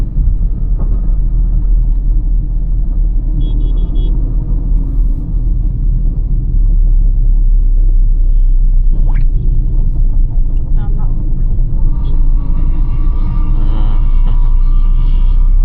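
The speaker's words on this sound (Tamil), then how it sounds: "ஃபஸ்ட்டு கியர் போட்டேன், மூவ் பண்ணேன். கொஞ்சம் ஆக்சிலேஷன் கொடுக்கேன்." A car accelerates through the gears on a Chennai city road at night, a loud steady engine and road rumble heard from inside the cabin while someone talks over it.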